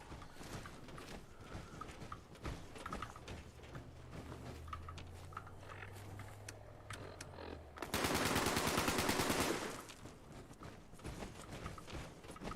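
Video game gunfire in Fallout 76: scattered shots crackle through the background, then a loud rapid automatic burst rattles for about two seconds before fading back to sparse distant shots.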